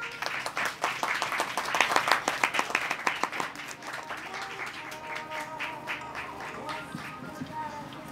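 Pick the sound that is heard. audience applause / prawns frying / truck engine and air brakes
audience applause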